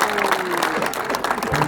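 A crowd applauds the environment minister at a community event, dense close clapping that runs steadily throughout, with a voice heard over it.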